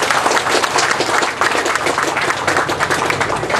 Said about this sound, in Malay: saya nak minta bagi satu tepukan dan terima kasih kita